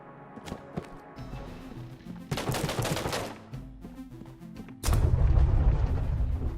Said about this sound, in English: We have a gun that shoots t-shirts.